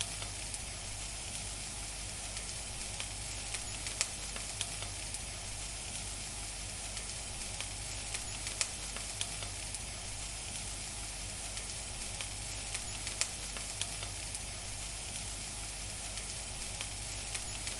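Fried rice made with fluffy Brazilian-style rice sizzles steadily in a hot pan as it is stirred, a dense, even frying hiss with faint scrapes and ticks throughout, heard alone with no talking.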